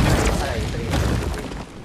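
Dense, loud bursts of video game gunfire and booming impacts crowd together, with a voice talking over the din.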